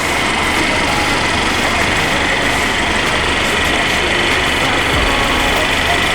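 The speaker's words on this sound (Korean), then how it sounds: "엔진 소리 일정합니다." A third-generation Cadillac CTS 2.0 engine idles with a steady, even hum at close range, with no talking and no change in pitch throughout.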